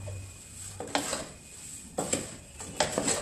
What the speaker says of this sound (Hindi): अब यहाँ पे हम मिक्स कर लेते हैं सारी चीज़ों को।